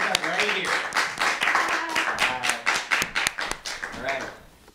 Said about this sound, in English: Sure, another round of applause.